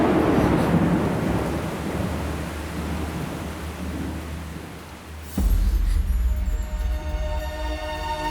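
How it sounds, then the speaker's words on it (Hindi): Heavy rain pours steadily in a dense wash of noise, with a low rumble of thunder building partway through. "कितनी बारिश हो रही है?"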